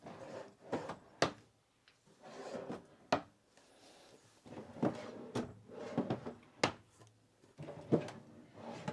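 Storage drawers in the bedroom of a 2027 Newmar London Aire motorhome slide open and shut several times, giving wooden rubbing glides and sharp thuds at an uneven pace, close by and without speech.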